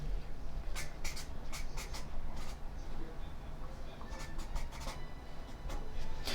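Pen or marker scratching out chemistry notes for a Chem 101 lesson on Hess's law, a run of short, brisk strokes and taps repeating steadily over a low room hum, fairly close.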